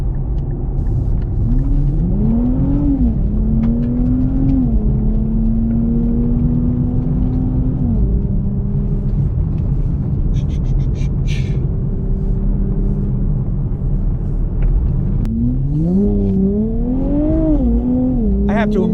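Nissan Z Nismo sports car driving on a street and turning around, a loud, close, steady engine drone and road rumble with pitch rising and falling as it slows and speeds up again, a voice talking over it.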